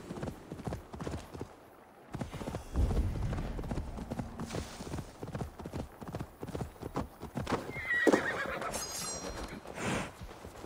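Horse hooves clip-clop steadily in Assassin's Creed Valhalla, Wrath of the Druids, with a horse whinnying near the end, loud and close over faint game ambience.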